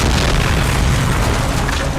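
A house blows up in a film, a loud, dense boom filling the whole short moment with continuous rumbling roar and no pause.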